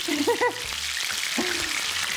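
Venison loin frying in olive oil in a hot pan gives a steady hissing sizzle throughout, with a few brief clinks and scrapes in a kitchen.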